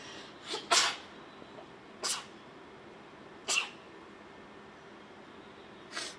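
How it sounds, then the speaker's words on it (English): A few short, sharp bursts of air spaced a couple of seconds apart, heard close up against a quiet background, like someone sneezing or nearly sneezing. "I have to sneeze 1 second."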